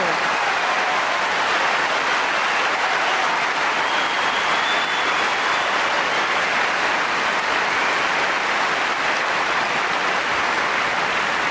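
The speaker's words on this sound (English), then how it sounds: "the sustained applause for that 32-minute set" The Wimbledon crowd gives sustained applause after Steffi Graf wins the first set against Venus Williams in the 1999 quarter-final, a thick, unbroken wash of clapping across the whole stretch.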